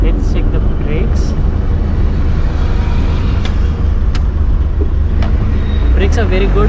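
Ashok Leyland Dost LS light truck braking on a test drive, with loud, steady engine and road noise, a few faint squeaks and brief higher chirps over the drone, and a voice that may sound faintly in the cabin.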